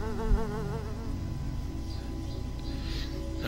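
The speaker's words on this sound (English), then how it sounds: "No, bad flies, bad flies." Flies in the video game Deadly Creatures buzz loudly and continuously with a wavering drone over game sound, close-up and persistent throughout.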